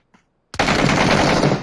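A gun in PUBG Battlegrounds opens up after a short silence with a loud, rapid burst of shots that rattles on for about a second.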